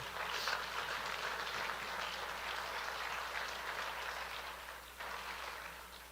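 A church congregation breaks into sustained applause, a thick, even roar of many hands clapping heard from a distance, softening slightly near the end.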